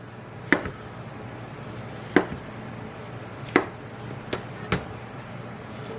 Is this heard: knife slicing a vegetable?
yes